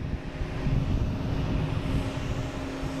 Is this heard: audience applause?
no